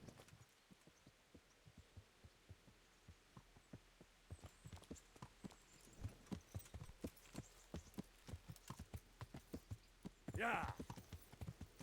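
Horse hooves clip-clop at a steady walking rhythm in the medieval game Kingdom Come: Deliverance, a run of evenly spaced soft thuds, with a brief spoken word and a short rustling burst near the end.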